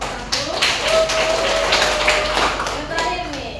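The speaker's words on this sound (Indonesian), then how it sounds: "Oke, tepuk tangan dulu untuk kelompok 1." Classroom applause for a student group, a steady patter of clapping hands filling the room throughout, with some faint voices mixed in.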